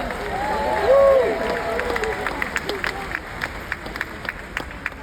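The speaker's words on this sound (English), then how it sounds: "Let's give a big round of applause." Crowd applauding and cheering at an event, with voices shouting and chattering early on, then scattered, uneven clapping that thins out toward the end.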